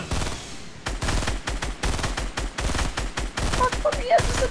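Rapid bursts of automatic gunfire in the video game Fortnite, loud and close, fired in quick strings to shoot down an incoming rocket, with brief gaps between volleys.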